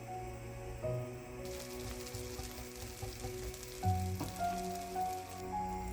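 Butter melts in a frying pan reused for a meatball sauce, giving a crackling sizzle like light rain beneath steady tonal background hum and music-like tones.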